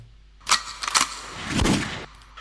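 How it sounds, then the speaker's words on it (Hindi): Gunshot samples in a hip-hop music remix: two sharp cracks close together, a short rattling burst, then a deeper booming blast fading out within about two seconds. "5th बार हिट होता है तो गन शॉट्स, उसके बाद है हमारे गन रीलोड सैम्पल।"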